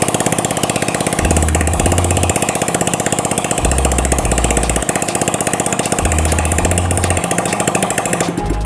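A Yamaha Mio Sporty motorcycle engine with an oil-consumption problem runs during a test. It makes a loud, steady, rattling idle with low swells returning every couple of seconds.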